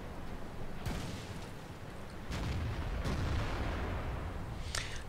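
Tank cannon fire from a T14 in a tank video game against a Hetzer: a few heavy booming shots over a constant engine and battle rumble, fairly distant and muffled.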